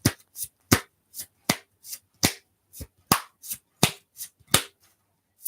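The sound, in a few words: shuffling and pulling tarot cards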